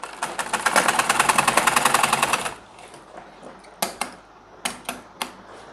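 A sewing machine stitches a pajama pocket in a fast, even run of needle strokes for about two seconds, then stops, followed by a few separate clicks and short bursts as the fabric is handled.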